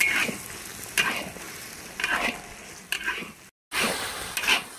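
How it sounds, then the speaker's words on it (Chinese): Home-style tofu with chopped scallions is stirred in a hot wok, the bubbling fry broken by regular scraping strokes about once a second, close and moderately loud. "把葱花撒进去，增加香味。 搅拌一下就可以起锅"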